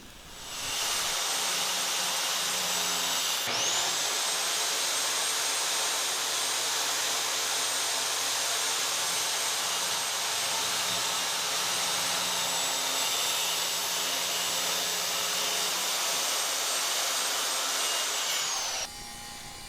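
A circular saw cuts scrap wood for a lumber rack, its steady high whine running loud and continuous for about fifteen seconds, starting abruptly and then cutting off before the end.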